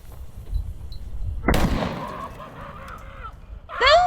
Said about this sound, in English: Is it actually a handheld grenade launcher?